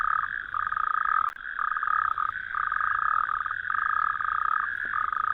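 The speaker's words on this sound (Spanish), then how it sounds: "a oscuras, solo croando se puede ofrecer un argumento válido" Male frogs croaking together at a pond at night, a dense, steady chorus of rapid pulsed calls that runs continuously and loud throughout, with brief dips in the texture.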